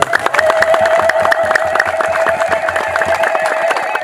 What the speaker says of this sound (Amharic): ለዚህ ትልቅ ያለ ሞቅ ያለ ጭብጨባ ብታደርጉ።